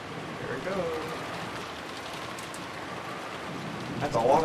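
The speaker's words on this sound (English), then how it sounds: "That's a lot of rain." Steady heavy rain with distant rolling thunder in the Umineko visual novel game, a continuous hiss that swells slightly near the end, with no talking over it.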